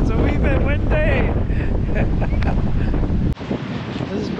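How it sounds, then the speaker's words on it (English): Gusty wind buffets the microphone at Benone Strand beach in Northern Ireland in February, a loud roaring rumble over distant surf, easing briefly near the end; a voice is heard faintly in the background. "No, it's a wee bit windy."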